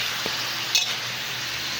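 Pork ribs fry in hot oil in a wok, producing a continuous close sizzle with a brief clink partway through and no voices.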